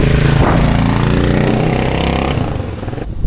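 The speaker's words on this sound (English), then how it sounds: "Very lovely sound with the homemade exhaust," A 1985 Yamaha XT600 motorcycle engine with a homemade exhaust and link pipe runs loud and close, a dense, throbbing single-cylinder note that holds steady and then eases off near the end.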